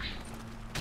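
USAS automatic shotgun firing in Modern Warfare 3 video game: a dense, noisy blast fills the moment, followed quickly by a second sharp shot near the end.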